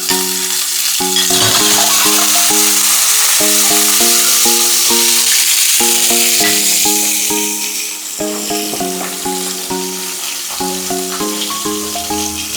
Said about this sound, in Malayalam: കുറച്ച് ഓയിൽ ഒഴിച്ചിട്ട് ഈ മുട്ട ഒന്ന് ഫ്രൈ ചെയ്തെടുക്കുകയാണ് ചെയ്യണത്